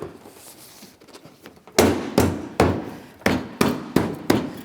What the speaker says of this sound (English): Just a couple light taps.